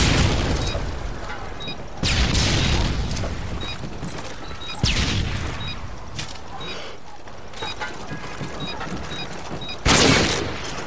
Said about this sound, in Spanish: Lançando una granada de luz!